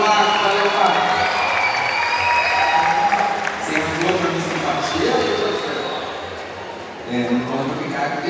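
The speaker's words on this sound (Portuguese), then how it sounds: "uma salva de palmas pro Marcos" A crowd at a local beauty pageant, the Miss Artur Nogueira 2023 contest, applauds for a man named Marcos. The clapping is lively and fairly loud, mixed with voices and background music, and fades slightly before picking up again near the end.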